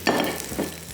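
Dhaga kabab fries on high heat in a pan, giving a short, steady sizzle with a couple of soft stirring scrapes.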